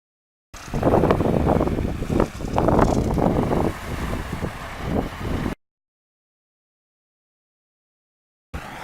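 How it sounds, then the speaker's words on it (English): Strong wind blows outdoors at an off-grid house with a windmill, roaring and gusting loudly against the microphone for about five seconds before cutting to silence. "I'll go outside in the wind and the cold"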